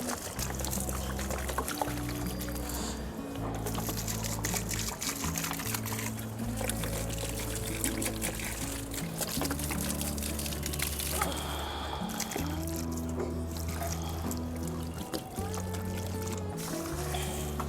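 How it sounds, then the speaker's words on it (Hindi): Water poured onto garden plants in a steady gushing stream with splashes and trickles, close and continuous, while background music plays throughout. "पौधों में पानी डाल देते हैं फटाफट।"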